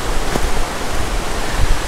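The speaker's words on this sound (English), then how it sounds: "So I'm walking along this river for a while and soon I will reach the waterfall." A river flows near a waterfall in the Pacific Northwest, heard as a loud, steady, close rushing wash of water with no voices.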